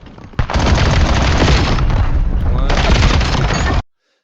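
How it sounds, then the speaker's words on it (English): Dense rifle and SMG fire from a video game shooter, a loud continuous burst of rapid shots lasting several seconds with a brief break before the volley resumes and then stops abruptly. "I switched to my other SMG and I took him out"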